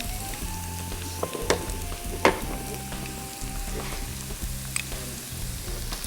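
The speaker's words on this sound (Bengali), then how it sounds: "এখন মশলাগুলো দিচ্ছি।" Spices for chicken badam keema fry in a pan with a steady close sizzle and crackle, broken by occasional spoon scrapes and taps.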